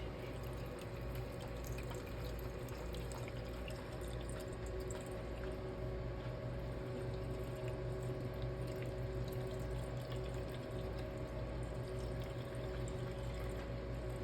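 Frappe mix pouring into a home slushy machine as a continuous, even splashing stream with a steady mechanical hum underneath, close and sustained for over ten seconds, no voices.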